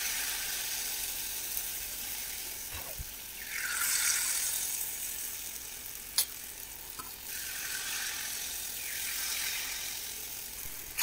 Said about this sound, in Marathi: तर माझ्या सर्व जिलेबी आता मस्त अशा तळून झालेल्या आहेत.